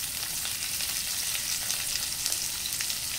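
Chopped garlic and sliced red onion frying in olive oil in a pan, a steady dense sizzle with faint crackles and occasional stirring, close and continuous with no talking.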